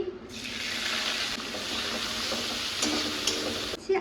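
Chopped onion frying in oil with whole garam masala and bay leaf, a steady loud sizzle with occasional stirring scrapes, close and continuous without talk.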